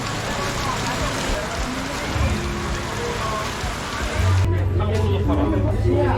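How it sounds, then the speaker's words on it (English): Steady rain falls during the rainy season in southern Thailand, a broad even hiss of drops on surfaces that carries on throughout while people talk nearby. "it's raining again"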